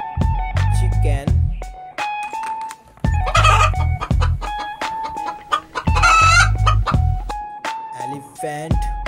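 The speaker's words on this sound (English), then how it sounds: "Chicken." Chickens cluck repeatedly in bursts, with occasional louder squawks, fairly close and clear, with no talking over them.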